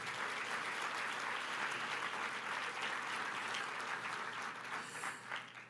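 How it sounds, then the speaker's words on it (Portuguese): A church congregation applauds loudly and continuously, a thick sustained clapping roar that holds steady and then begins to thin slightly toward the end. "Dê para Jesus uma forte salva de palmas."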